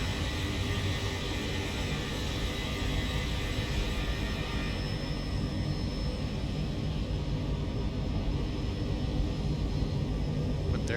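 Steady, loud roar of a C-40 jet aircraft in flight from a flight simulator game, a continuous broadband engine and air rush holding at constant level throughout with no voices.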